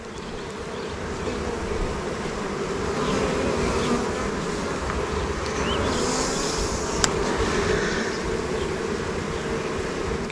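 Honeybees buzzing steadily and densely while being moved from a swarm box into a hive, a close continuous drone with individual bees passing near.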